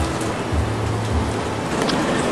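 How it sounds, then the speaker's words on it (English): Heavy pouring rain outdoors during a thunderstorm, a steady dense hiss with no distinct drops, continuous and fairly loud from start to finish. "you can hear the pouring rain coming outside"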